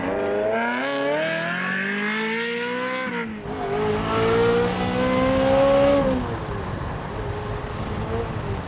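Ferrari 355 fitted with a Capristo exhaust accelerates hard through the gears, its engine note climbing in pitch, dropping at a shift, then climbing again, loud and close from inside the car with wind and road noise.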